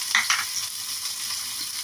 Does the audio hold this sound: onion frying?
yes